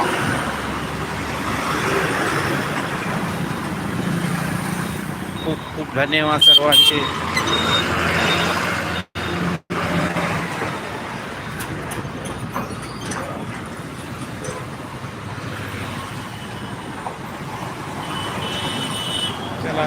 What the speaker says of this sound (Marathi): पहा कसं ट्रॅफिक आहे आता संध्याकाळी चालू झाले ट्रॅफिक आता